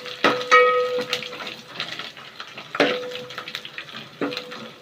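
Bay leaves and curry leaves stirred in hot oil in a frying pan, giving a few sharp sizzling bursts with scraping stir sounds between them, close and loud.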